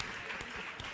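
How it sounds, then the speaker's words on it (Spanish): Brief burst of audience applause, a short scattered patter of clapping at moderate level lasting about a second. "Un aplaudiment."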